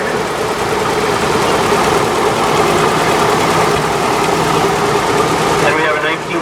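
A 1961 Farmall 460 tractor runs in a tractor parade, its engine a steady loud rumbling drone close by throughout, with an announcer's amplified voice talking over it.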